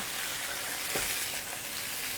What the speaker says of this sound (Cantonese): 咁咧就一路炒，落咗油噶啦，落去炒。